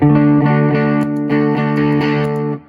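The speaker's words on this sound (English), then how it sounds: "It's going to overdrive a little bit even with the drive all the way down." A sustained electric guitar chord played through a Greer Amps overdrive pedal with drive all the way down, slightly gritty and loud, restruck a few times in a steady rhythm before cutting off.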